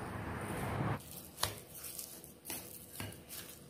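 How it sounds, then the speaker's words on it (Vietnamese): Squid stuffing of carrot, glass noodles, meat and seasonings mixed by hand in a bowl, quiet and close, with soft squishy presses and a few sharper taps in an irregular rhythm. "Bây giờ mình trộn đều lên này."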